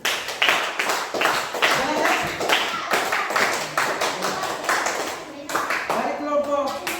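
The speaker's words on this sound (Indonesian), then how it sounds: "Oke, tepuk tangan dulu." Schoolchildren in a classroom clap their hands in a burst of rapid, fairly loud claps that fade near the end.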